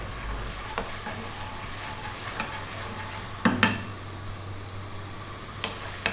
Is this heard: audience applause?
no